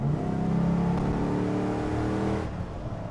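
A T110 V8 engine revs loud and close, a rich throbbing growl held steady for over two seconds before easing off, with no talking.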